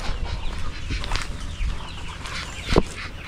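Several hungry chickens cluck and scratch about nearby, with a short sharp squawk near the end and rustling, flapping movement throughout.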